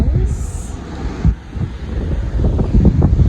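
Gusty wind at sunrise on the Big Island of Hawaii buffets the microphone in loud, uneven bursts of low rumble, with faint surf-like noise beneath and no clear talking.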